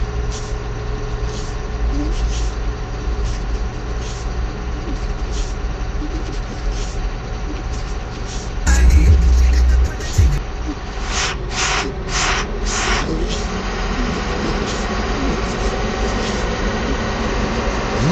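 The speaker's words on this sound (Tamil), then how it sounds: "பாருங்க அப்போ ஃபுல்லாக எவ்வளோ டிராஃபிக்காக இருக்கு." Heavy road traffic: an engine rumble idles steadily with a constant low drone, a louder vehicle surges past midway, followed by a few short hissing bursts like air brakes.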